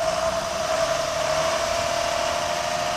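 A 2003 John Deere 6715 tractor diesel engine idles nearby, a steady, even hum with a constant tone and no variation in rhythm.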